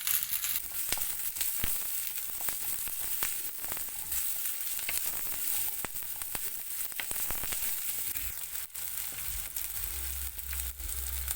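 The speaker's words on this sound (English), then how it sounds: "now we are going to add 1 onion finely chopped." Finely chopped onion fries in hot oil with popping mustard seeds and cumin seeds, a loud steady sizzle with dense crackles and spits throughout.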